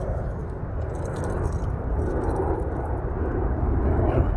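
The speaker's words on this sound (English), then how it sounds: "Airplane right overhead, flying in. American Airlines, Boeing 737." A steady low roar of an American Airlines Boeing 737 passing overhead, rumbling and gradually building in loudness, with faint rattling in the foreground.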